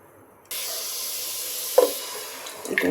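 Strained tomatoes pour into a cooking pot with a steady wet hiss that starts abruptly, broken near the end by a few brief clinks and knocks.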